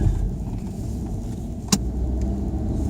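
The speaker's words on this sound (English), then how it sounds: "Okay, we're in the little car." A small car drives along with a low, steady interior rumble and one sharp click partway through, no voices.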